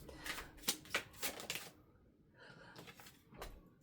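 Tarot cards being handled and shuffled, a quick flurry of close papery flicks and slaps followed by a pause and a few softer shuffles.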